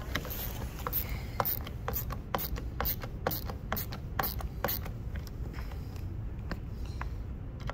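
Adjustment screw on an F2 ski binding being turned, a steady close scraping rub with repeated short clicking ticks running through the whole stretch.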